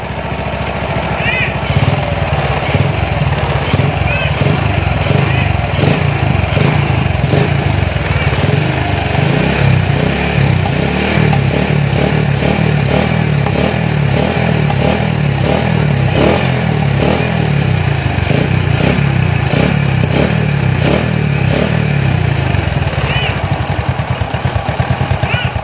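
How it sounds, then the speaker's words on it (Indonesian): A bored-up Honda Astrea Grand motorcycle fitted with a Vario 125 piston revs with short throttle blips, a loud rough engine clatter running steadily throughout. "Kita coba gas-gas sedikit."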